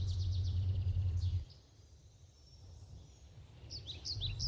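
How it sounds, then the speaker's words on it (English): Birds chirp and trill in a forest with crickets, bright repeated calls at the start, fading into a quiet hush, then more chirps returning near the end over a low steady hum. "soon it's barely a murmur in the background of singing birds and crickets"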